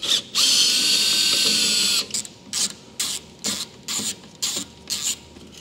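A power tool spins out T30 screws from the rear bumper cover of a Porsche 992 Carrera: one long steady whir, then a row of short rhythmic bursts of driving, close and loud.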